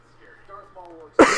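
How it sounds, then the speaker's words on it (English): A man clears his throat during a live E3 2017 game conference stream, with a quiet murmur beforehand and a sudden loud, rough throat-clearing burst near the end. "Difficult to clear my throat today for some reason."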